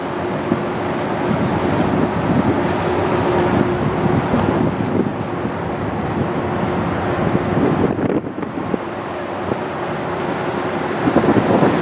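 Steady, loud wind rushes across the microphone at the front of a cruise ship, a continuous roar with ocean noise beneath it and no break throughout.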